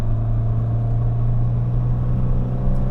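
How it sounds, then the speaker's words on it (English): Inside a 1990 Nissan Pulsar GTI-R, the engine drones steadily with a constant low hum and a faint whirring over it, with no speech. "You have a lot of turbo noise in this car."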